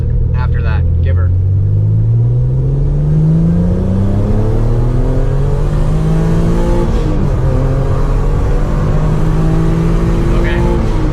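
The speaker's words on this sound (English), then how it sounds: "He's gonna do a pull from second gear all the way to red line" A car engine tuned with Megasquirt pulls at full throttle from second gear toward red line, a loud close rumble whose pitch climbs steadily through the gear and keeps rising, with people talking over it.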